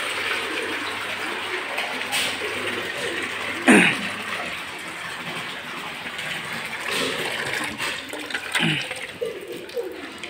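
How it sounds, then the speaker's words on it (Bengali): Water runs steadily from a tap into a bucket for cattle feed, a continuous gushing wash with a few brief knocks and splashes along the way. "এই যে এই কল থেকে পানি নিব"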